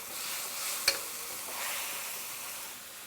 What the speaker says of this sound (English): now I'm going to go in with my mushrooms. Give it a quick toss.